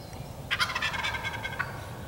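A friction turkey slate call worked by hand to mimic a turkey, a loud close burst of raspy yelping notes followed by a single short cluck-like note, with no talking.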